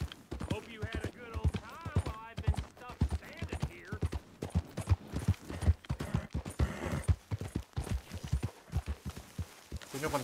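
Horse hooves clip-clop at a steady walking rhythm in the video game Red Dead Redemption 2, fairly close, under intermittent in-game talk.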